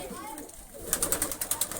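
Pigeons coo in their loft, a quiet murmur at first, then a quick run of about six short, regular pulses near the end.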